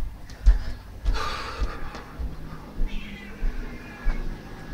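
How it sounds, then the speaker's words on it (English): A cat meows a few times close by amid rustling and handling noise, with no talking. "What are you meowing about?"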